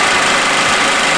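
A car engine idles steadily and close by with a low, even rumble and slight knocking vibration, heard alone with no talk.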